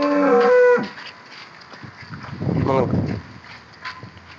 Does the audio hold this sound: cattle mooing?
yes